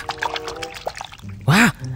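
Water poured over children's toys while washing them, a short gurgling splash near the end preceded by light drips and trickles, close and fairly loud, with a voice-like rising sound overlapping the pour.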